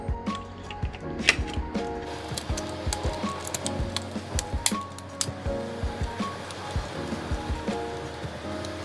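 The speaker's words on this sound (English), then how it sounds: "time to put in the back shell." Plastic back shell being fitted onto a PS5 DualSense controller, close irregular clicks, taps and light knocks of plastic parts pressed and snapped together, no talk.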